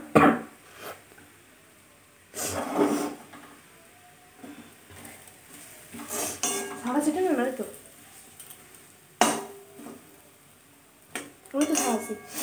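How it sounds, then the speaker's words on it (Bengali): Potato being mixed with spice masala in a pan while making homemade singara, with metal utensils scraping and clinking against the pan in irregular bursts and a light sizzle, and a voice talking in between. "আলুটা দিয়ে ভালোভাবে আলুটার সাথে মশলাটা মাখতে হবে"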